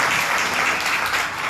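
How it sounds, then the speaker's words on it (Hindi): Children clap together in a loud, dense burst of applause that fills the whole moment, steady and close with no pauses. "ताली बजाओ बच्चे"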